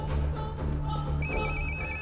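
A telephone rings with a steady, bright electronic tone that starts partway through while a call is being placed, over a constant background hum.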